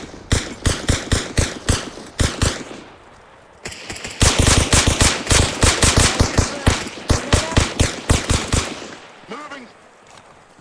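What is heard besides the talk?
gunfire in the video game Arma Reforger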